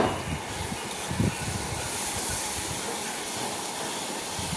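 Tomatoes sizzling in a hot pan with fried chillies and garlic for a spicy dried-fish bhuna, a steady close hiss and crackle with no voices.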